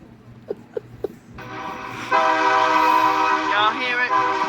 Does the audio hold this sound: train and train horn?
yes